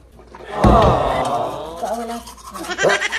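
Toothbrush scrubbing teeth at close range, a steady brushing rasp over about three seconds with a louder start and some voices murmuring around it.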